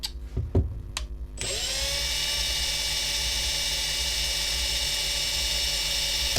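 Makita TD172D impact driver spinning up at speed 1, a steady whining motor hum that starts after a few light clicks and holds evenly, close and loud, with no talking.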